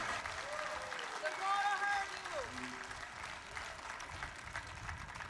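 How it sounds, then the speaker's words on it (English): Guitar festival audience clapping in a sustained wash of applause, with a voice talking over it and a few tonal notes drifting through the crowd noise. "Nice round of applause, everybody."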